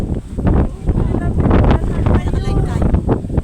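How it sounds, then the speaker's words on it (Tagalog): Strong wind buffets the microphone outdoors at a park in Tagaytay, a loud continuous roar and rumble that swells and dips throughout, with people talking underneath. "Lakas ng hangin. Lakas ng hangin kasi."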